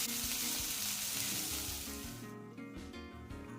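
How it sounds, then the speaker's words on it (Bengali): Grated radish sizzles as it fries in a pan with browned onions, a steady hiss that slowly fades with faint stirring, no voices. "তখন আমি যে গ্রেট করে রাখা মূলো রেখে দিয়েছিলাম সেটা আমি এই ভাজা পেঁয়াজের মধ্যে দিয়ে দিলাম।"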